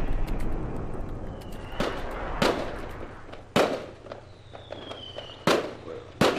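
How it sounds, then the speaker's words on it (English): Fourth of July fireworks go off outside, with five sharp, fairly distant bangs spaced a second or two apart and a faint whistle between them, heard over quiet indoor background noise. "I'm probably out there popping fireworks."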